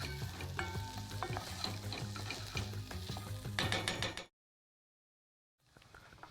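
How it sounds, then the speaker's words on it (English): Whole coriander seeds toast in hot oil, a close sizzle crackling with rapid small pops and stirring scrapes, then a sudden cut to silence before faint sizzling resumes. "And they'll start toasting up inside of the oil."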